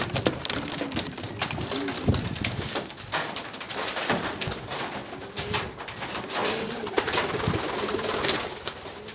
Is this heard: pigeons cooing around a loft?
yes